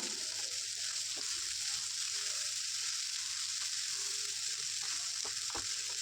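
Ballar thoran with masala sizzles and fries in a pan while a spoon stirs it, giving a steady close hiss with occasional scraping clicks and no voices.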